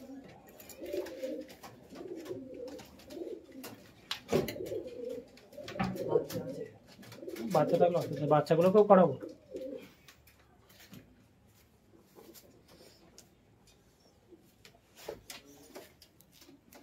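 Pigeons, large and small, coo in low repeated bursts up close, with a person talking over and between the calls and some light ticking handling sounds.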